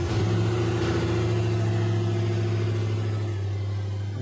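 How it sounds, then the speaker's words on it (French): A modified car engine runs loud beyond legal noise limits, a steady deep droning hum with a strong low tone held evenly, close and alone without talk. "là on est complètement hors la loi puisque le véhicule ne répond pas du tout au bruit réglementaire"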